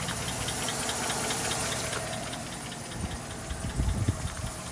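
Chevy Silverado pickup engine idling with a slight noise from the front, a steady mid-pitched running sound with faint ticking and a few low thumps near the end.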